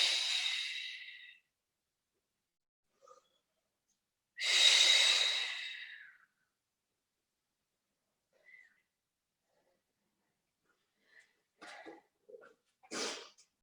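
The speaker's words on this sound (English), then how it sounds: "Listen to the breathing." Heavy breathing during a Pilates exercise class: two loud, drawn-out breaths, each lasting a second or more, separated by silence, followed by a few fainter, shorter breaths and puffs near the end.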